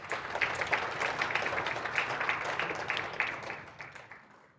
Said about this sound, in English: Give her, please, another thunderous round of applause.